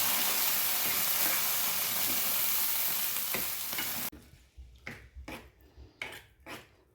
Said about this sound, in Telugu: చక్కగా ఈ తాలింపు మొత్తం పప్పుకు పట్టేటట్టుగా కలుపుకోవాలి.